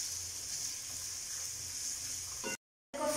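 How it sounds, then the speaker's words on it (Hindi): Carrots fry in a pan, giving a steady, even sizzle close by that cuts off briefly near the end before resuming. "अब मैं गाजर डालूंगी, गाजर ज़रा हार्ड होती है इसलिए मैं गाजर पहले डालूंगी और इसको अच्छी तरह मैं फ्राई कर लूंगी।"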